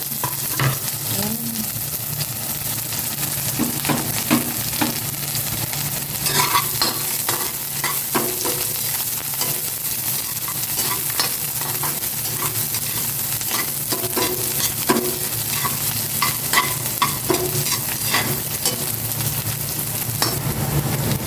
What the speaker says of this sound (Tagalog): Ilagay ko na itong sibuyas dito sa kawali may mantika.